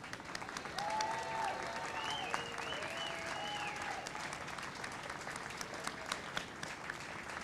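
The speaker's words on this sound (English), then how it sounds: "please give them a hearty round of applause." Faint, distant applause from a gathered audience honoring a group involved in restoring a rail car, a soft steady patter with whistle-like whoops and cheers rising over it.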